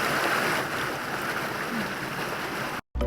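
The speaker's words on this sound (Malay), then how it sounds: "Dan ini adalah aliran air sungai." A river flows near a hot spring, a steady, close rushing hiss of moving water that runs for a few seconds before cutting off abruptly.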